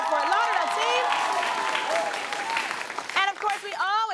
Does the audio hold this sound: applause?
yes